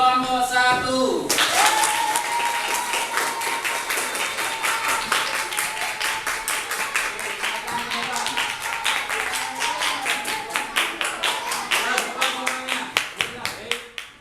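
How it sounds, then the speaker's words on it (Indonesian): Classroom group applauding a presenting student group, sustained dense clapping from many hands for several seconds that thins into scattered claps near the end, with a voice speaking briefly at the start. "Oke, silakan tepuk tangan buat kelompok"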